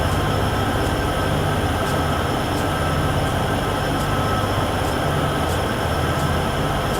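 A freight train rolls through the Cheyenne to Laramie route in the Train Sim World 6 video game, a continuous loud rumbling roar of wheels and engine with faint periodic clicks, steady throughout with no talking.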